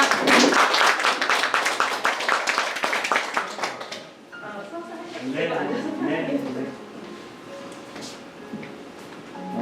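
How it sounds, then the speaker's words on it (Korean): Clapping from an audience welcoming a professor of Korean medicine onto the stage at a book concert, dense and loud in the first four seconds, then fading as a voice and quieter room sounds take over. "윤성호 교수님을 큰 박수로 모시겠습니다."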